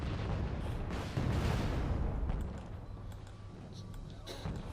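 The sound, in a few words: artillery fire in the video game Wargame Red Dragon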